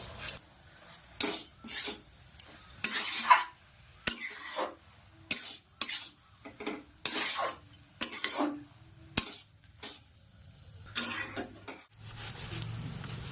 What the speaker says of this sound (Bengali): সিদ্ধ করা আলুগুলো গ্রেট করে নিচ্ছি।